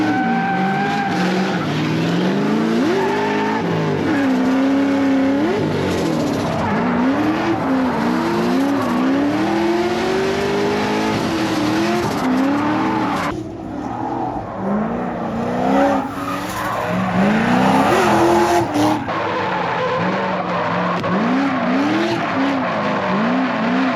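Drift cars in a Pro-Am round at Sebring, an S chassis and a Chevy Corvette, roar and rev hard as their tires squeal continuously, with the engine note repeatedly rising and falling in loud sustained runs.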